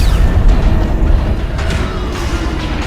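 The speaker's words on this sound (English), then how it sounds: "That explosion came from the propulsion deck" A Destiny 2 explosion on a starship's propulsion deck: a deep, heavy rumble that rolls on steadily for a few seconds, loud and close, with a mechanical roar carrying through it.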